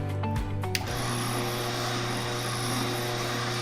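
Juicer motor runs while carrots are fed in, starting with a few clattering knocks, then settling into a loud continuous mechanical whir and grinding hum with a steady low drone.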